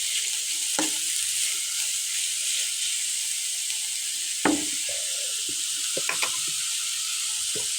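Onions frying in a pan until brown, a steady close sizzle with occasional stirring scrapes and clicks, no voices.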